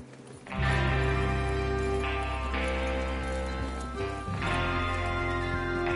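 Horses in the Western video game Red Dead Redemption 2, clip-clopping hooves set over a steady low background drone, loud and continuous as riders set off, with a brief pause and renewed bursts of activity.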